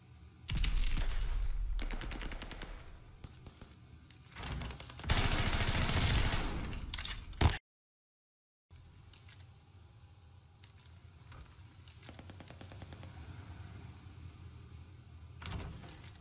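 Automatic gunfire from a gun in the shooter game Automaton, in loud sustained bursts with a brief silent gap, then quieter continuous game action with scattered shots.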